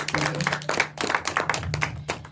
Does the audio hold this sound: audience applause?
yes